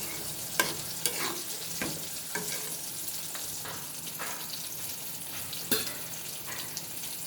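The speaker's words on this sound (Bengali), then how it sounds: "এই কষানো মশলাটার ভিতরে দিয়ে দেবো ডাঁটা আর সাথে আলু। ভালো করে কষাইতে হবে।" Vegetable stems and potato being stir-fried in a spice paste, giving a soft sizzle broken by repeated scraping and knocking of a spatula against the pan. The strokes come close together at an uneven pace, with no talking.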